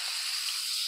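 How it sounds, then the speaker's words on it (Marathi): Asafoetida and mustard seeds frying in hot oil for a tempering, giving a steady, soft, high hiss and sizzle with no distinct pops, heard alone. "हिंग, मोहरी चांगली तडतडली"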